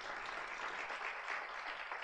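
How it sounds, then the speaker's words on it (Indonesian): A church congregation at a Sunday worship service applauds in a steady wash of clapping from many hands, moderately distant and even, with no talk over it. "Ayo kasih tepuk tangan dong buat dia."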